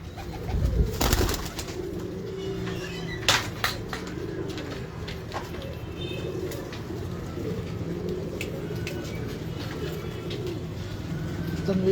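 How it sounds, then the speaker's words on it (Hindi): Abdullah Khan's pigeons coo in low, steady murmurs throughout, with a few sharper knocks and rustles early on and faint background activity. "अब्दुल्ला खान साहब के कबूतर रखे हुए थे।"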